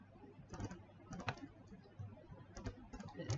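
Quiet keyboard typing in short bursts of quick key clicks, with brief pauses between flurries, heard close up.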